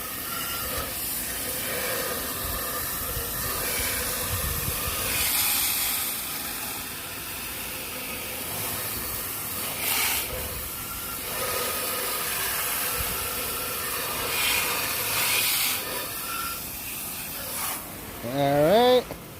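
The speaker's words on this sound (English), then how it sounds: "I'll get the sprayer ready" Sprayer hissing steadily as it rinses cleaning product off a surface, a broad continuous wash of spray noise lasting throughout with a few louder bursts, close and fairly loud.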